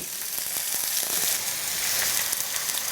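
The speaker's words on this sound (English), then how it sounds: "we're gonna take our strips and put them right in the pan and just fry them up." Steady, dense sizzling of tempeh strips frying in hot oil, constant crackle throughout with no voices.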